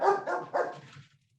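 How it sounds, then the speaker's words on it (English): A pet dog barks three times in quick succession, close and fairly loud, with a short trailing yip fading into silence. "that was my dog."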